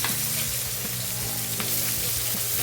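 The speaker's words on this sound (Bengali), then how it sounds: "কড়াইয়ের মধ্যে আমি দিয়ে দিয়েছি তেল আর এখন আমি দিয়ে দেবো কুচুনো পেঁয়াজ" Chopped onion sizzling in hot oil in a wok while cooking green peas pulao, a continuous dense frying hiss with occasional stirring scrapes, close and loud, without speech.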